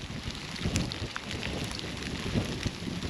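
Hail falling outside a dome home, a steady dense patter of small icy hits mixed with wind noise, moderately loud and continuous with no voices.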